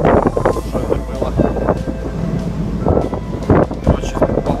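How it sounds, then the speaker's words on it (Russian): Strong wind at sea in the Bab-el-Mandeb strait buffets the microphone in loud, uneven gusts, with a low rumble that fits a boat on rough water. "погодой повезло, сильный ветер, волна"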